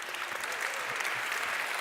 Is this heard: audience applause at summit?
yes